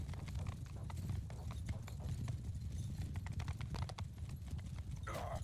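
Horse hooves clip-clop steadily in a Mount and Blade 2 Bannerlord battle, a dense rhythmic stream of many hoofbeats from cavalry moving together, with a brief whinny-like sound near the end.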